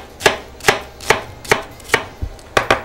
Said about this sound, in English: A dice of red onion,